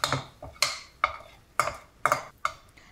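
Chole masala pushed to one side of a kadhai, a series of about six distinct scraping knocks of a spoon against the pan in an uneven rhythm, close and fairly quiet with no talking.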